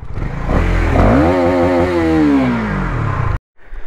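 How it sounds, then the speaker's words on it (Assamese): A KTM Duke 250 motorcycle engine revs hard, its pitch sweeping up and then falling back in one loud, close burst that stops abruptly near the end, with no talking. "RPM এটা দি দিওঁ বাইকখনৰ মজাকৈ"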